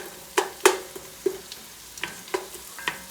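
Onions wilting and frying in a pan for broccoli cheddar soup, with a soft sizzle under a series of sharp stirring scrapes and clinks, about seven quick knocks spread across the clip, close and fairly quiet, no voices.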